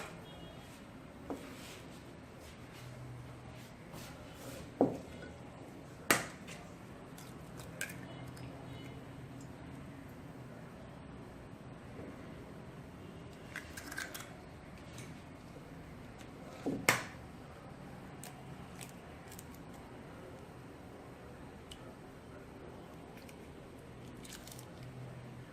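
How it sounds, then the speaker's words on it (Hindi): Eggs cracked and separated for a Black Forest cake: a few sharp, isolated taps and cracks spaced several seconds apart over a soft, steady room hush, with faint shell and liquid sounds between; no talking. "अब हम जो है एग्स को सेपरेट कर लेते हैं।"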